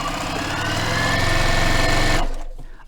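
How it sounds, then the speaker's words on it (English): A sewing machine straight-stitches a quilt, its rapid mechanical hum and needle chatter running loud and close without pause, then cutting off abruptly near the end, with no talk. "And then just sew on down, all straight stitching."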